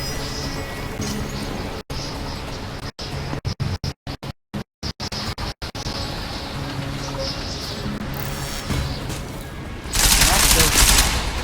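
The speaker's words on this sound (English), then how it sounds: "Keep shooting!" Bursts of rapid gunfire crackle in a futuristic first-person action game, with a run of sharp, choppy shots breaking up the sound midway and a louder burst near the end.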